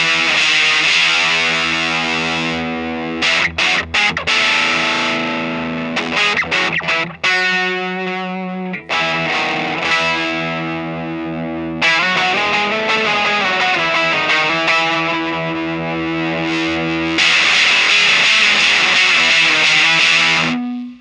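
Electric guitar driven through a Voltic Electronic Devices fuzz pedal with the gain maxed, loud, saturated chords and riffs with a brief thinner stretch midway, sustaining dense buzzing harmonics throughout, no talking.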